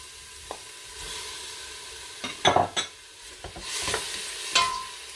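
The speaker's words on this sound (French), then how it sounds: "Je vais rajouter mes petits morceaux de viande." Small pieces of meat with onions, for a harira soup, stirred and frying in a pan: a steady soft sizzle carries short scraping stirs and utensil clatter against the pan.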